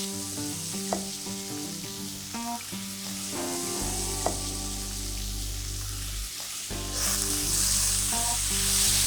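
Alligator tenderloin frying in hot oil gives a steady, close sizzle and crackle that swells louder toward the end, with faint clinks of a utensil and no voices.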